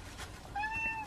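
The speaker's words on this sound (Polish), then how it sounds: "to kot od razu miauczy" A cat meows at a campsite, begging for food once it is brought out; a single drawn-out, fairly close meow rises over faint background noise.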